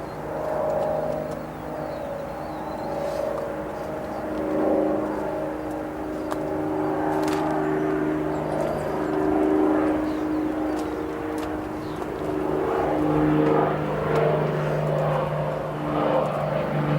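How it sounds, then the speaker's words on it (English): A departing Cessna 414 Chancellor twin-engine airplane at O'Hare produces a steady droning engine hum with layered tonal harmonics, holding fairly constant and swelling slightly toward the end. "we are going to go to a departing Cessna 414 Chancellor, headed to Lincoln"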